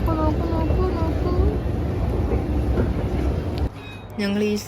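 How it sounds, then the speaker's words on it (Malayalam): A train at a London railway station fills the scene with a loud, steady rumble and rolling hum that drops away near the end, followed by a brief higher whine. "London railway station."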